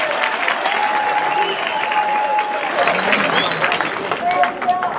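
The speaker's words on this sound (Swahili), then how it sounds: "Hebu tupige makofi." A crowd claps together at a gathering honoring a man named Wainaina, steady applause filling the room for about five seconds while voices murmur through it and a few tonal sounds rise from the crowd.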